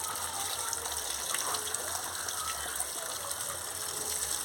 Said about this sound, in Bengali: বন্ধুরা দেখুন কাটা হয়ে গেছে, এবার আমি ধুয়ে নিচ্ছি